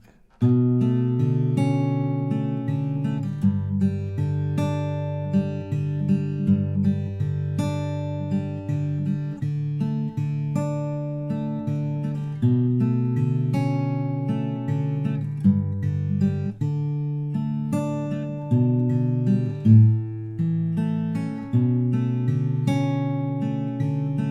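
Plucked guitar strings in a steady fingerpicked pattern, clean and close, playing chords continuously with no voices.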